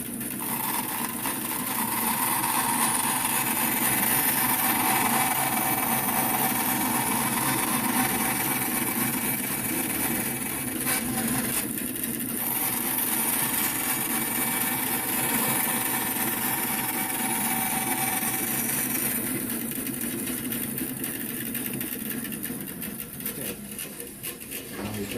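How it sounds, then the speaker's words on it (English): A bandsaw cuts a knife sheath insert with a continuous, fairly loud motor hum and blade hiss that runs steadily throughout, easing slightly toward the end. "we're going to do it on the bandsaw"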